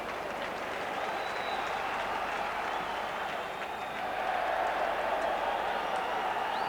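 A football stadium crowd at Liverpool v Kuusysi Lahti roars and applauds in a dense, sustained wash of cheering and clapping that swells slightly toward the end.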